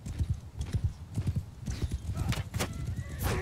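Horse in Mount & Blade 2 Bannerlord riding out with rhythmic galloping hoofbeats, loud and close, over battle noise, with a neigh near the end and someone talking over it.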